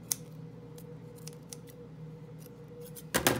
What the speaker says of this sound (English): Take my scissors and just snip this just a tad bit.